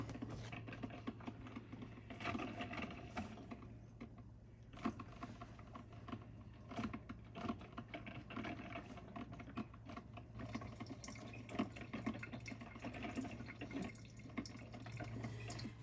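A drip coffee maker brews on its auto setting, with steady trickling and dripping of water, light clicks and a low continuous hum running throughout at moderate level.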